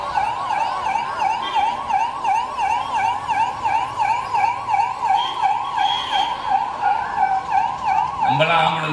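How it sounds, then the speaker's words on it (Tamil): An ambulance siren wails loud and close in a steady rising-falling cycle that repeats throughout, with a vehicle shifting near the end as it passes by a street-side speech. "நம்மளாம் ஆம்புலன்ஸ்க்கு வழி விடுவோம்ல."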